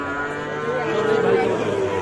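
A calf at a busy cattle market moos in one long, loud, drawn-out call close by, with faint crowd murmur underneath.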